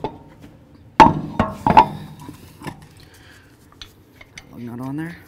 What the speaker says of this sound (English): Let's get our wheel up on here.